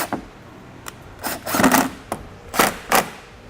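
Ratcheting and clanking metal while bolts are tightened on a CURT Class 3 trailer hitch receiver under a 2017 Toyota Highlander, with several short bursts of clicks and taps spread irregularly, fairly close.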